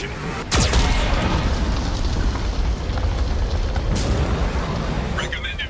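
Mass Effect 2 combat with a heavy Geth cannon blast, a loud booming explosion followed by dense continuous rumbling noise and fainter later impacts.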